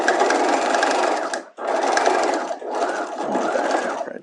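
A sewing machine stitches bias facing onto a bodice neckline in three steady, close whirring runs separated by short pauses, with no talking.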